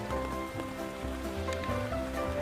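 Rain falls steadily in a forest during a rainy outing, giving a dense, even patter over a low rumbling background. There are no breaks.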